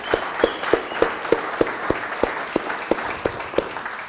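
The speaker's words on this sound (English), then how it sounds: "can we get a round of applause for all the Texas chapters here?" A conference audience applauds for the Texas chapters, with a few distinct, evenly spaced loud claps standing out near the front over a steady wash of clapping from the room.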